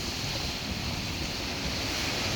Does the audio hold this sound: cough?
no